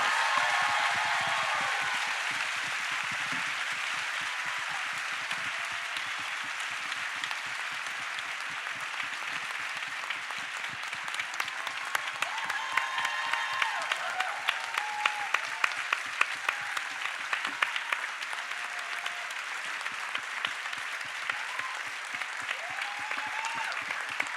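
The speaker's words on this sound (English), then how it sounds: "how about a big round of applause for the cast and creators?" An audience at an event honoring the cast and creators of The Good Wife breaks into sustained applause, a dense wash of clapping that stays loud and steady for over twenty seconds.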